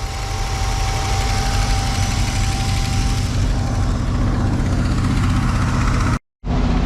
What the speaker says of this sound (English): It cold started. It's unhappy about it, but it did it.